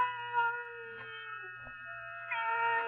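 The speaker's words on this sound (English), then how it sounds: "Then the silence was broken by the faint crying of one cat." A cat crying in an old-time radio drama, a faint, drawn-out plaintive meowing that wavers and rises again near the end, heard alone against a quiet background.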